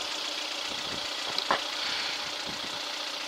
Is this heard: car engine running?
yes